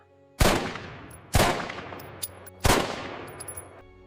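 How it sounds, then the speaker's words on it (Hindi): Three sharp gunshots from a Beretta pistol, evenly spaced about a second apart, each a loud crack that decays into a short echoing tail in an otherwise quiet scene. "बेरेटा पिस्तौल से निकली 3 गोलियां सीधा गांधी जी के सीने में जा लगीं"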